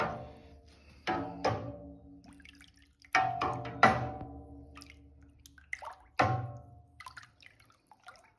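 Sugar mash with yeast being stirred and mixed by hand, giving a series of intermittent wet sloshes and liquid splashes, each followed by dripping, close and fairly quiet with pauses in between.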